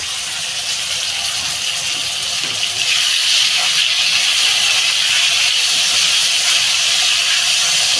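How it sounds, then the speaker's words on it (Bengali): Potatoes frying in hot oil for a Bengali potato and greens dish, a steady loud sizzling hiss with no talking. "বন্ধুরা আলুটা আমার ভাজা হয়ে গেছে"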